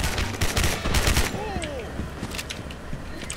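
Gunfire in the online shooter Gotham City Impostors on the Arkham Asylum map: a rapid burst of shots fills the first second and a half, followed by scattered fainter shots, with game effects in between.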